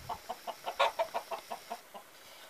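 Chickens cluck in a steady run of short, close clucks, about a dozen in a row, with no talking.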